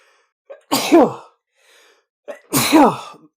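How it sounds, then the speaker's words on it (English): Two loud sneezes a couple of seconds apart, each preceded by a short sharp intake of breath, close to the microphone with silence between. "bear with me, I'm going to sneeze"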